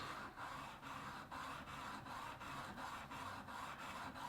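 A blade stroked gently on a diamond sharpening plate to take off a burr, about a dozen soft, quiet rasping strokes in a steady back-and-forth rhythm, heard up close.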